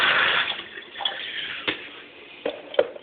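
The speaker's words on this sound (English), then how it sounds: "Rinse my hands." Hands rinsed under a running tap while setting up a hookah: a brief rush of water at the start, then fading splashes and a few small drips and taps. The sound is close and quiet, with no voices.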